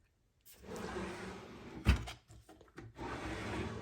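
A drawer in a craft room is pulled open close by, with a soft wooden sliding rub, a sharp knock as it stops, then a few quieter rattles and scrapes.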